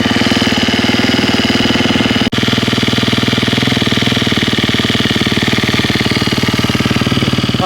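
A KTM 250 EXC-F dirt bike engine idles steadily with a fast, even putter, loud and close, with a brief dropout partway through and no talking.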